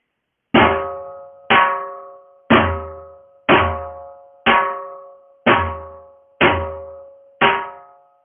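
A dhol plays one slow cycle of the Lambhi Chaal rhythm: eight evenly spaced, ringing strikes, each with a sharp attack and a bright decaying tone, alone and close.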